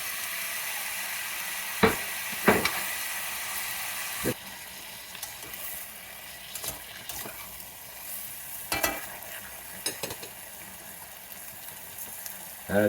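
Sausage, peppers and onion fry in a pan with a steady close sizzle, broken by sharp scraping and stirring knocks as the food is turned.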